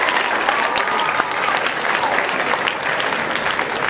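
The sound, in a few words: audience applause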